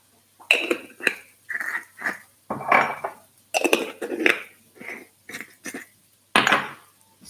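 A teaspoon of cumin seeds goes into a pot of green and white chili amid a series of clinking metal spoon and pot taps, sharp and close, in uneven bursts with quiet gaps.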